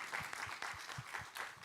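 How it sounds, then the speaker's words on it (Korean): A church congregation at a Sunday worship service claps together, a dense, fairly faint burst of applause with rhythmic pulses of hands throughout. "우리 하나님께 감사와 영광의 박수 올려드리겠습니다."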